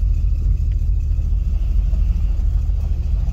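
A car engine with a C4 automatic transmission runs steadily at low idle, a deep continuous rumble close by with no talking.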